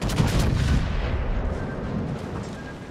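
Naval artillery fire from British battleship Rooke in the World of Warships video game: a loud, heavy boom that rumbles and slowly decays, with no talk over it.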